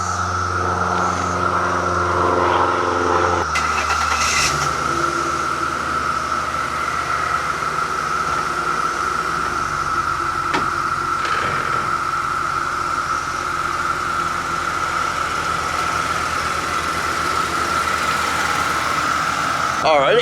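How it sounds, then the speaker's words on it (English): A 2008 Mercedes-Benz C300 cold start: the starter cranks briefly, then the engine catches and settles into a steady, close idle with a persistent whine and hum. "Cold start of a 2008 Mercedes-Benz C300."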